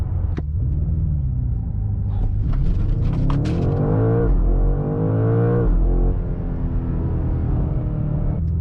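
A Mercedes-AMG GT63 accelerating hard from a standstill in a timed acceleration run, the engine note climbing in a loud, close, continuous rise through the gears with a deep rumble underneath.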